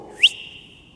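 A single sharp rising whistle from a person calling a dog, loud at first and then holding a long steady tone that fades out, with no talking.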